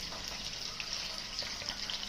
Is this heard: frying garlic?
yes